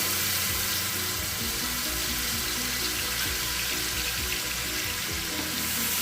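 Garlic-ginger paste sizzling in hot oil for mutton karahi, a dense continuous hiss and crackle that stays steady and fairly close throughout, with no talk.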